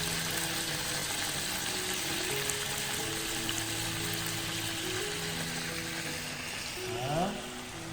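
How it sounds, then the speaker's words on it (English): Tofu frying in a hot pan gives a steady, continuous sizzle throughout, with soft tonal music playing underneath. "The sizzling sound of tofu frying in the hot pan"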